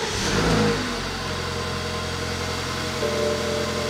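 A BMW engine cold start: it cranks and catches, revving briefly before settling into a steady, even idle, heard up close, with a check engine light on.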